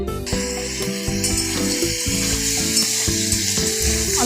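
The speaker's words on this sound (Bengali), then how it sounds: "আলুটা একটু লাল লাল হোক ততক্ষণে আমি ঝিঙেটা দিই, দেখো জল ছাড়ছে।" Potatoes and ridge gourd fry in a covered pan with a constant sizzling hiss, partly masked by loud tonal background music with a steady beat throughout.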